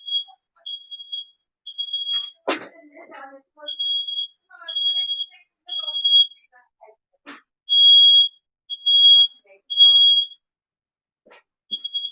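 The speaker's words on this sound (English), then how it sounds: "that was just my mother setting off the smoke alarm" A household smoke alarm sounds in repeated high-pitched beeping bursts, some long and loud, while people talk intermittently over it indoors.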